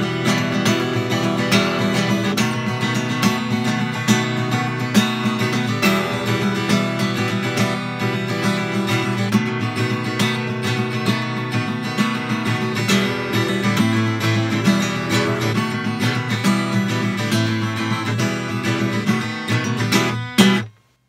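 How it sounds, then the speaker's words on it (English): Acoustic guitar strumming full chords with a sharp accented rhythm for a song from Desperado, steady and loud throughout, played alone before ringing out at the end. "okay, so with the chords, it sounds like this."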